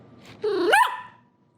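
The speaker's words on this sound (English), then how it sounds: "That's a really pathetic bark." A dog lets out a single short, thin bark that rises and then trails off, close by and heard alone in a quiet room.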